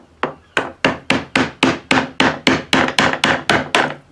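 A gouge strikes copper beech wood while carving a tray, a steady series of about fourteen evenly spaced, crisp mallet-driven knocks, close and loud with no talking.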